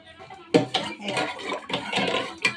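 Dal being tempered in a cooking pan, with close clattering of a metal spoon against the pan in irregular scrapes and knocks.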